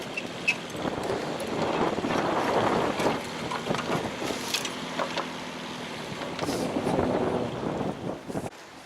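Gusty wind buffeting the microphone outdoors in a field, rumbling in uneven surges that swell and ease, with brief clatters near the end and no speech.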